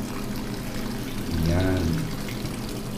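A Nikai fully automatic washing machine filling with water, a steady rushing inflow that swells briefly in the middle as the water ripples, while a person talks over it.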